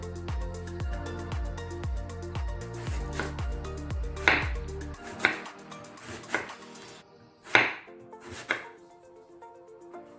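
A knife chops banana stem on a board in a quick, even run of close, crisp thuds, then a few slower, sharper cuts with pauses between them, no voices.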